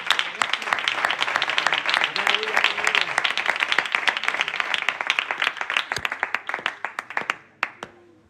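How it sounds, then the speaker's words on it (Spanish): A church congregation at a Bible study claps together in sustained applause that gradually thins into scattered individual claps before fading out. "dale un aplauso, hombre"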